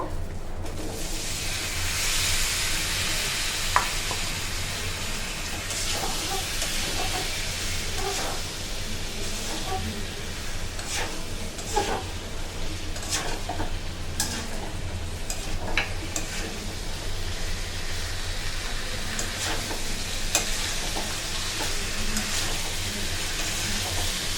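Taro pieces sizzle and fry in spiced masala for a rohu fish curry, a loud, steady hiss broken by scattered clicks and stirring scrapes, close up with no voices.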